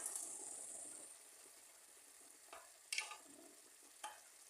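Butter being stirred into cheese soup in a pot, with a faint sizzle fading early, then a few soft scraping spoon strokes against the pot, quiet and close with no talk.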